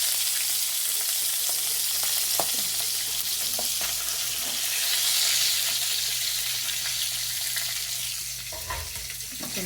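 Salted fish sizzles in a hot pan, a continuous bright frying hiss with a few soft stirring knocks, close and steady with no talking.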